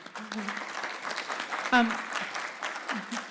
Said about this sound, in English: We may applause now.